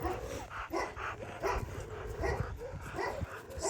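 Several Kangal dogs bark and yip in quick, irregular bursts over a steady background murmur, moderately close and fairly loud throughout.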